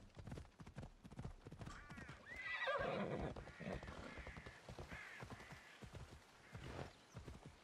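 In Assassin's Creed Odyssey, a horse gives a clear, mid-loud whinny over rapid clip-clopping hooves and other quieter in-game sounds.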